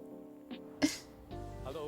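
One sharp sneeze bursts out over a steady background of voices and video game tones.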